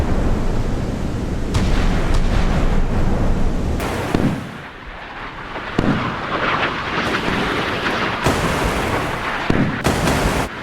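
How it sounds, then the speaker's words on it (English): Naval guns firing in the Sea Power warship game, a Ticonderoga cruiser against a Sovremenny destroyer: loud repeated booming shots at irregular intervals over a continuous roaring rumble. "Naval gunfire going up."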